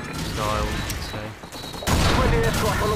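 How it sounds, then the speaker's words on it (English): Airstrike explosions and rapid gunfire in a video game roar loudly and continuously, with a heavier burst of blasts arriving partway through. "Friendly airstrike on the way."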